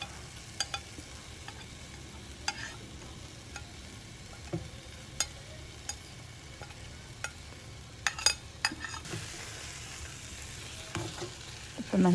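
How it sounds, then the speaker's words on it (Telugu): Red chilies frying in oil for gongura chutney, a continuous soft sizzle with occasional sharp clicks of a spoon stirring the pan, rising a little at the end; no voices. "ఇక నూనెలో మంచిగా దగ్గరికి వేగింది పండు మిరం."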